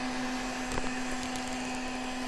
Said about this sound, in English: Now we can turn the heat gun off.